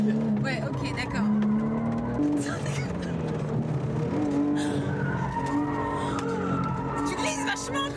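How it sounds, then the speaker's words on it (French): Car sliding and skidding on a race track, with engine drone and tire noise running throughout at steady volume while people talk over it. "Tu glisses vachement quand même."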